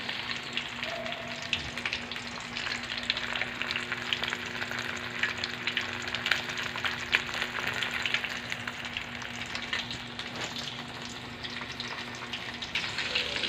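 Tofu already turned over keeps frying in a pan with a steady, fairly quiet sizzle and crackle that runs evenly throughout, with no voices.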